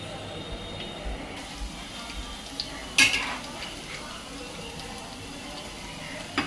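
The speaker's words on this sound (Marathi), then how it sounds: "ते असं आपण टाकून तेलात सोडायचे." Cabbage manchurian balls slipping into hot oil in a home kitchen, a soft sizzle running under light clinks of utensils, with a sharp splash near the middle.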